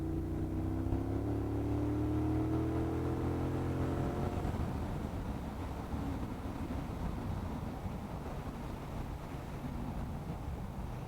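A Triumph Bobber Black or Speedmaster motorcycle accelerates hard to overtake a car on a bumpy road, the engine note rising in pitch, then giving way to loud, steady wind and road roar.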